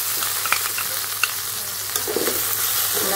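Onion, green chili and garam masala paste ground on a stone slab fries in oil for a chicken korma, giving a steady soft sizzle with scattered stirring scrapes and clicks, close up and with no talk.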